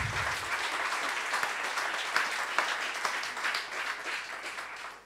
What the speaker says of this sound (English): Can I just ask again for another round of applause for brilliant arguments from both